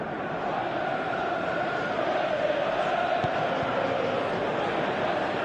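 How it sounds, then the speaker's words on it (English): Video-game football stadium crowd during a match, a dense continuous roar of many voices swelling slightly midway, steady and moderately loud with no clear speech on top. "you can feel and hear how the crowd are reacting to all of this"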